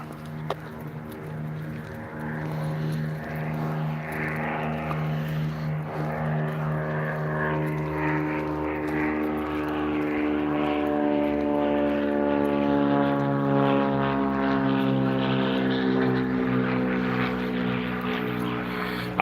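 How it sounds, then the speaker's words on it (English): Small propeller plane near a county airport, its engine drone steady and fairly loud overhead throughout, with a slowly sliding pitch as it passes. "I don't see a plane, do you?"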